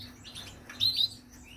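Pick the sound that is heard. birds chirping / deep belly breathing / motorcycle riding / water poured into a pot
birds chirping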